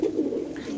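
White racer pigeons kept in cages give a single short, low coo, close and moderately soft.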